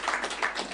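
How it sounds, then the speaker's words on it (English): An audience at a Srimad Bhagavatam talk at ISKCON Coventry claps in a dense, continuous burst of applause, close and fairly loud for under a second, with no speech over it. "Right, round of applause again."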